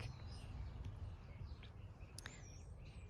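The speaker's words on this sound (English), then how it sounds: "You can hear all the birds chirping." Faint, scattered bird chirps in a French zone 8b garden in early February, over a steady low outdoor rumble, a few brief high calls standing out now and then.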